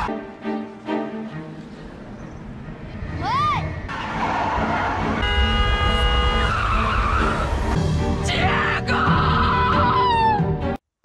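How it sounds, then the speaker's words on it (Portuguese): A car skids on the road and strikes a pedestrian in a dramatic scene, a loud tire screech and impact rising over background music, with shouting voices mixed in. "o tio da Bia passa com o carro e atropela o Diego"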